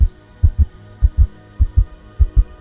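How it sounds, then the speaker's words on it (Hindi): A racing heartbeat sound effect thumps in deep, paired beats at a quick, even pace, four double pulses in succession with a faint hum beneath, no voices. "मेरे दिल की धड़कनें बढ़ गई थी।"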